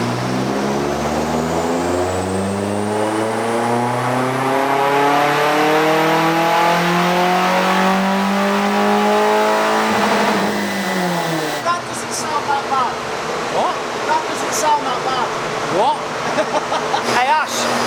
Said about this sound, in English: when that horrific sounding car hits the rev limiter